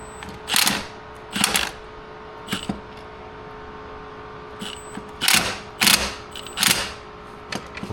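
Ratchet tightening the shift linkage on a Saab 900, bursts of rapid clicking in short groups, two near the start and several more later, close and fairly loud against a quiet background.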